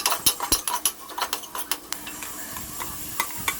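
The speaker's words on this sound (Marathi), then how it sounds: "मिक्स करून घेऊया सगळं." Dal khichdi ingredients with curry leaves and garam masala stirred in a cooker pot, giving a run of quick scraping clinks of a spoon against metal over a soft sizzle, close and steady with no talk.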